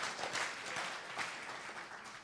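Audience applause at a Shabbat live stream, a soft, distant wash of clapping lasting a couple of seconds.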